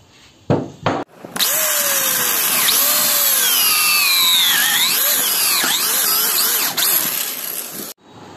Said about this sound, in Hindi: हमने चारों पाए में होल कर लिए हैं